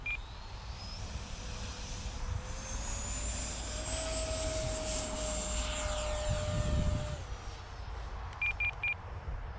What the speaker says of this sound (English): Okay, rotors control, motor armed.